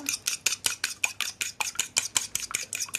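An egg is beaten with cutlery in a bowl for fried rice: a quick, steady run of bright clinking taps and scrapes, about five strokes per second, close and alone.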